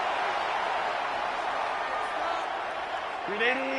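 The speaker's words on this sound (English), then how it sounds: "This crowd into it now." Football stadium crowd during an NFL wild card playoff game between Washington and Tampa Bay, a steady broad roar of many voices rising in excitement, with a brief whistle near the end.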